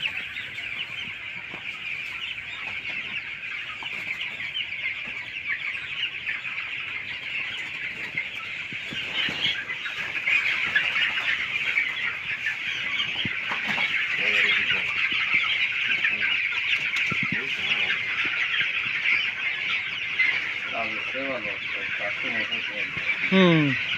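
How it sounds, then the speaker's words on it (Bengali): Broiler chickens, about 2900 birds in a large poultry shed, keep up a loud, continuous chorus of clucking and squawking, with some sharper calls standing out near the end. "2900 মুরগি। বিশাল ভাই।"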